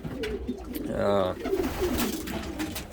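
Pigeons in a backyard loft give a soft, rolling coo near the middle, close and moderately loud, over low background noise and faint bird calls.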